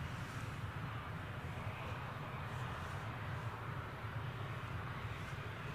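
A Ryanair Boeing 737 Max 8 airliner taxis at Newcastle airport, its engines giving a steady, distant broadband roar with a low rumble that holds even through the whole stretch, with no voices.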